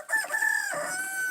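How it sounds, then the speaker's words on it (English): A rooster in a village gives a single loud, close crow, a bright drawn-out call that holds steady before fading, with no other sound around it. "Yeah, you hearing a rooster crowing."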